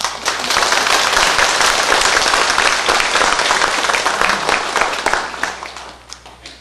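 A church congregation at a Sunday service bursts into loud, dense applause that holds steady for several seconds, then thins out and fades near the end.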